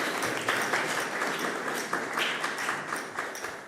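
Seminar attendees give their speakers a warm round of applause, many hands clapping in a steady, fairly close patter that holds evenly throughout.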